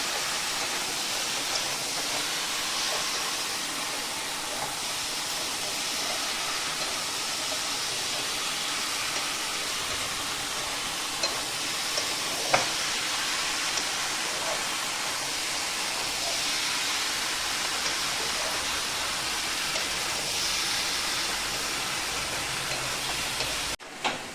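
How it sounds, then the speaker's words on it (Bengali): Red amaranth stem curry sizzling steadily as it is stir-fried in a pan before water is added, a continuous close hiss with occasional faint clinks of a utensil and no talking. "দেখো আমি কিভাবে কষছি তরকারিটা একটু কষতে হবে"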